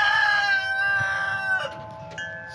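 Chickens at the backyard coop, a rooster crowing with long, loud, drawn-out notes and hens clucking nearby, with no talking.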